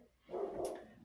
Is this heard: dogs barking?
yes